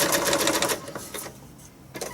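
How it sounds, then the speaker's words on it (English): A sewing machine stitching with the needle down, a fast loud mechanical rattle that stops after under a second, followed by quieter clicks and a brief restart. "continue to stitch along this side with my needle down, lift up my presser foot and put it down and continue to stitch"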